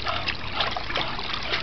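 Pool water trickles and splashes softly around Bentley the bulldog, a steady close burble with small splatters and no voices.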